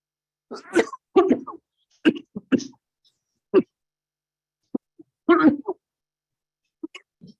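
Someone coughs repeatedly in short, sharp bursts, clustered and irregular with pauses between, close and fairly loud in a quiet room.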